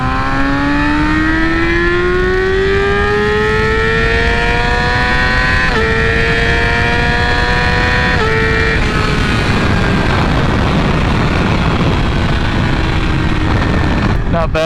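A loud Yamaha R6 motorcycle with a flashed ECU winds up through the gears from third, pitch rising steadily with a brief dip at each shift, running hard for the full length.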